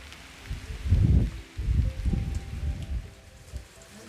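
Evening rain in Germany patters steadily on surfaces nearby, with heavier gusts of drops swelling and fading in waves, no voices present.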